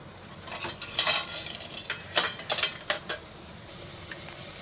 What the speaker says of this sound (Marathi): थोडंसं त्याच्यावर आहे ना मी असं साधं झाकण ठेवते.